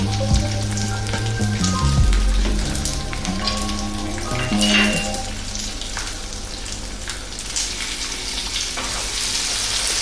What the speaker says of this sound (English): Let's drop in the cup of onion. We're going to get our ginger and our garlic in there.